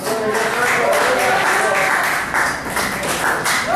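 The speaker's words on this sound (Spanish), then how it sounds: "¿Cuánto pueden dar un aplauso fuerte?" A church congregation applauding loudly, a dense and steady wash of many hands clapping together for the whole stretch, with voices mixed faintly underneath.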